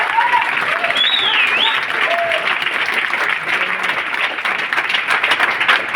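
An audience at a Vestige company event applauds in a sustained, dense burst of clapping, with faint whistles and voices rising over it.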